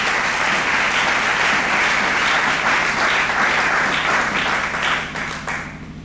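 A church congregation applauds in praise to the Lord, with dense continuous clapping from a crowd that fades slightly at the end.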